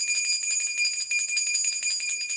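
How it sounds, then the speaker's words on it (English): A bell rung continuously with a bright, shimmering metallic ring held steady at even loudness, close and alone without any voices. "Let's ring the bell on that one."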